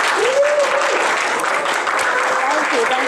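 An audience claps steadily as a speaker is welcomed at a trainer-training seminar. The dense, loud applause fills the room, and a voice briefly cuts through it.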